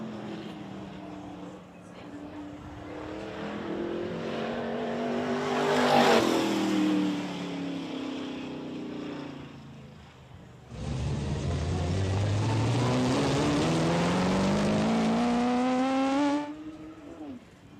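A race car laps Hythe Motor Speedway, its engine passing with rising and falling revs that peak around the middle, then a second loud, close high-revving pass sustained before cutting off, with an announcer talking throughout.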